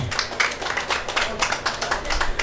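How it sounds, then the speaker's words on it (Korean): Audience applause at an outdoor performance of a Korean pumba street-entertainment act at the Buyeo Seodong Lotus Festival, with steady, fairly light clapping from a crowd running the whole length without a break. "박수 소리가 조그마니까"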